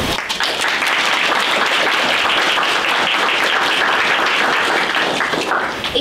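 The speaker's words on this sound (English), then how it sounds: "we would like to give a big round of applause for the rest of the leadership team supporting us" An audience at a school board meeting gives the school leadership team a dense, sustained round of applause, loud and continuous for several seconds before starting to fade.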